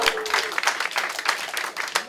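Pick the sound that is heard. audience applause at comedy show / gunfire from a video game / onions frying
audience applause at comedy show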